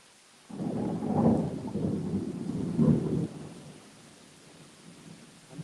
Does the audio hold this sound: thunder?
yes